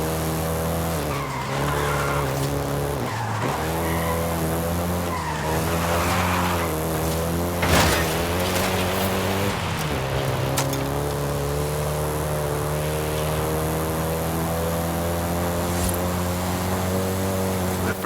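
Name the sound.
Volkswagen Golf GTI driving in video game Forza Horizon 5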